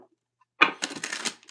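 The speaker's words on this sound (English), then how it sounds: "This is the giant tarot deck that I struggled to shuffle" Someone shuffles an oversized tarot card deck, producing a burst of papery riffling and rustling that lasts under a second, close and fairly clear with no speech.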